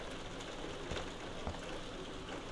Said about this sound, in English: You can hear the rain hitting the glass.